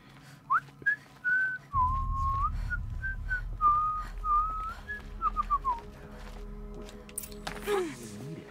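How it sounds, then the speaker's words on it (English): A character in the video game Horizon Zero Dawn whistles a wavering, melodic tune of about a dozen phrases, clear and close, over a low background rumble before a brief scuffing noise at the end. "Just whistle."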